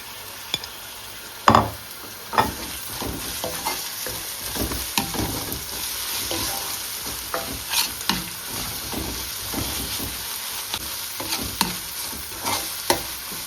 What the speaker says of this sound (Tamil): வெள்ளைப்பூடு சேர்ப்போம் பிரட்டி விட்டுட்டு இஞ்சி இஞ்சி பேஸ்ட்டை சேர்ப்போம்